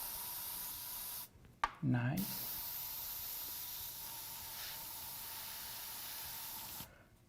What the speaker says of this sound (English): all I'm gonna do is just spray more white at the center to intensify